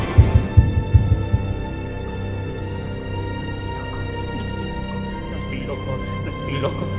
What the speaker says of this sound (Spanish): He ahí el latido de su horrible corazón.